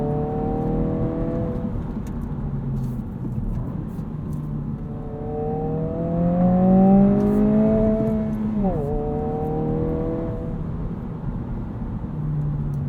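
A 2022 Honda Civic Si sedan engine pulls steadily under acceleration, its rising tone climbing through the gears with a brief shift dip near the middle, loud and close from inside the cabin.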